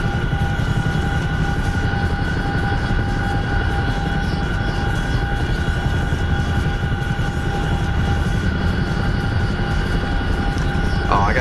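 A Chinook helicopter in a video game produces a constant, loud, droning engine and rotor roar that stays steady and unbroken for the whole stretch.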